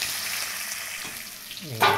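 Fish sizzling steadily in hot oil in a pan, a soft continuous fry with a sharper burst of crackle near the end as the pieces are turned.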